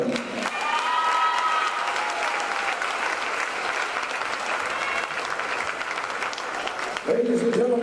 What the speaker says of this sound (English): one more round of applause for the 2022-23 All-SCAC Women's Basketball Team.